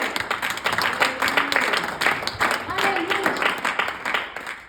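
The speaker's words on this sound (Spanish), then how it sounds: "Denle un aplauso al Señor" Applause from a church congregation, many hands clapping in a continuous, lively rattle at fairly close range, with voices mingling over the clapping.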